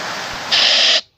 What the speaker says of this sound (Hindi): गांव में भी बहुत तेज़ बारिश हो रही है